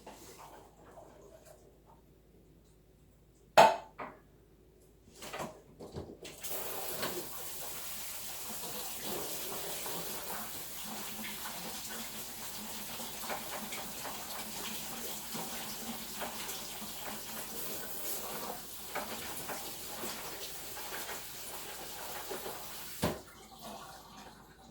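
Tap water gushes steadily over canned black beans being rinsed in a kitchen sink, a continuous splashing rush after a couple of brief clunks, ending with a sudden stop.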